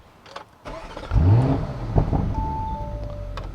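A car engine starts up and revs, rising into a loud throaty surge, then settles into a steady idle over several seconds with no talking.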